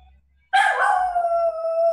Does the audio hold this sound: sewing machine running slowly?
no